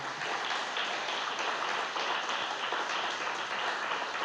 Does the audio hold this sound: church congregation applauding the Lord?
yes